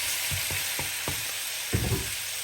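Chicken pieces frying in a pan with browned onion and garlic: a steady hiss of oil with a series of spaced clinks and scrapes, then a louder burst of sizzling as the meat goes in.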